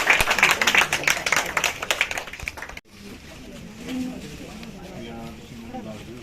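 A dense burst of audience applause at a retirement farewell ceremony, loud and continuous for about three seconds, then cut abruptly to a quieter room with murmuring voices.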